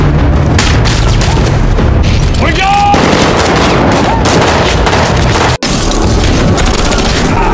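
Loud, dense explosive booms and gunfire-like blasts from an action movie sequence in which intruders break through a fence, filling the whole stretch with only a brief dropout near the end.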